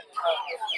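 A fighter chicken at a poultry market in Putia, Narsingdi, gives a brief, fairly close cluck lasting under a second.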